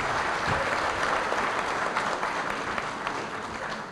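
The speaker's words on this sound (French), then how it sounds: "Je vous demande, Madame, Monsieur, d'applaudir une fois de plus" Audience applause at an award ceremony for science and technology: steady, dense clapping from a large crowd filling a hall, holding at an even level throughout with no voices.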